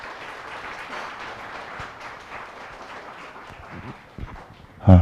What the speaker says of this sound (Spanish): Vamos a recibir con fuertes aplausos Pastor Terry Henderson.